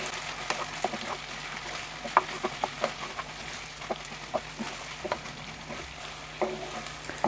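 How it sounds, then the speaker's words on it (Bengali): Spices and fish head frying for muri ghonto, a steady close sizzle punctuated by sharp spatters and spoon-against-pan stirring knocks at an irregular rhythm. "মশলাটা দিয়ে আবার আমি কষাচ্ছি"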